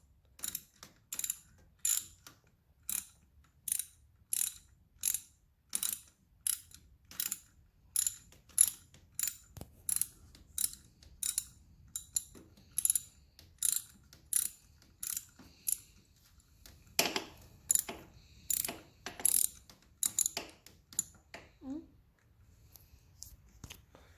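Socket wrench ratchet tightening a bolt on a 2006 Yamaha 450: a close series of crisp, evenly spaced clicking strokes that runs alone and steadily, turning quicker and denser near the end.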